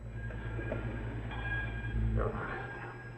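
Steady low rumble of a train running, with rhythmic rail clatter throughout and a few faint voices in the background, in a radio drama.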